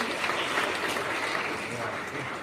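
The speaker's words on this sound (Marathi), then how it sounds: "आदरणीय आशिष मगर सर यांच्यासाठी एकदा जोरदार टाळ्या होत्या" An audience gives applause for Ashish Magar at a Marathi speaking event, a dense, steady clapping that fills the short stretch at moderate loudness.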